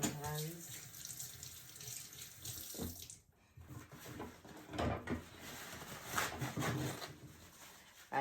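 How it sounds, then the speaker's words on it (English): Hands rinsed under a running kitchen tap while preparing a Jamaican dinner, a close steady gush of water with a brief break midway, then splashing and rubbing resumes, alone without talk. "now let me rinse my hands"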